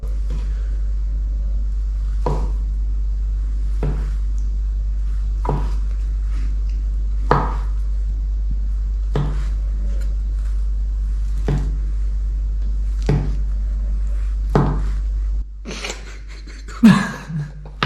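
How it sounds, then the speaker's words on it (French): A knife slicing food into thin strips on a cutting board, about a dozen evenly spaced crisp cuts roughly every second and a half, close and clear over a low steady hum, ending with a few louder knocks. "vous allez prendre votre couteau et faire des fines lamelles, comme ça."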